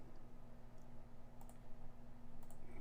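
Faint, sparse computer mouse clicks during work in design software, a few soft isolated taps over a low steady electrical hum, recorded quietly with no one speaking.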